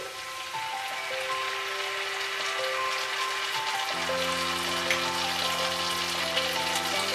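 Mustard paste sizzles steadily in a hot pan over a medium gas flame while cooking a Bengali bata fish curry, a continuous close crackle lasting throughout, with soft sustained musical tones underneath and no talking.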